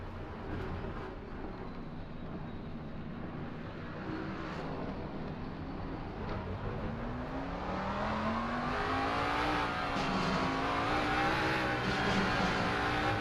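Vintage race car engines in Assetto Corsa Competizione at Monza drone steadily, with a rising, gear-stepped engine note building louder toward the end as the car accelerates, with no talk over it.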